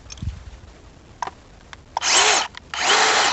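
A few quiet clicks and taps, then a single-speed DeWalt power drill whirs loudly in two short bursts separated by a brief pause.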